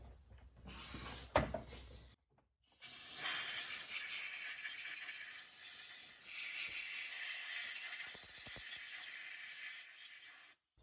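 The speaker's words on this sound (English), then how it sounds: "All right, compressed air." Compressed air hisses across a Honda V6 engine bay in a long, steady blast that starts after a short pause, with faint clicks and handling noises before and during it.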